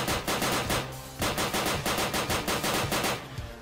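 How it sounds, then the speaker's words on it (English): M4 rifle firing in the Minecraft Aliens vs Predator mod, two loud bursts of rapid evenly spaced shots separated by a short pause, with no talking. "We have the M4. Now you can target with the left mouse button and then shoot."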